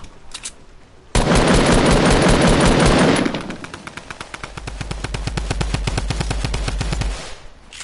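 Automatic gunfire in the video game Fortnite: a dense, loud burst of rapid shots for about two seconds, then a slower, evenly spaced string of individual shots continuing for several seconds.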